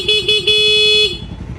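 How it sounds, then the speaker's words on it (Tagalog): A loud car horn honks three times: two short toots, then a longer sustained blast, close by over an idling car engine. "Busina. Loud."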